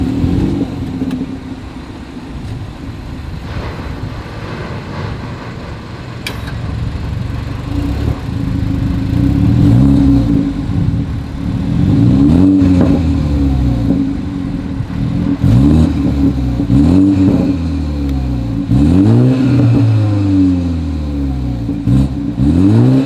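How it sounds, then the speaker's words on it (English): A 2021 BMW 330i exhaust revs repeatedly, with a steady idle drone broken by a series of sharp rising and falling engine swells, loud and close, with no talking. "As always, here is that exhaust clip."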